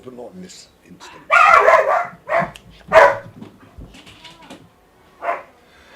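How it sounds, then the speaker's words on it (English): A dog barks excitedly at close range in a home setting. It gives a burst of loud, sharp barks and yips, then a few scattered barks, while someone talks over the noise. "I apologise for the dog going absolutely mental there."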